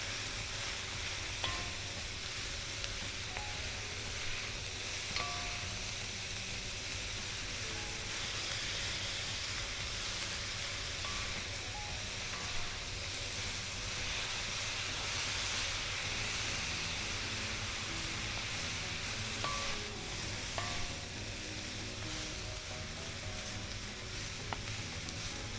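Food cooks in a pan with a constant, even sizzle of moderate loudness running throughout, with a few faint clinks and utensil touches scattered over it.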